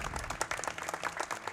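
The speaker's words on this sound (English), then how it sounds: "That deserves a clap." An audience at a live speedrunning marathon event claps for a couple of seconds, a busy, uneven patter of many hands with a few sharper claps standing out, heard at a moderate distance.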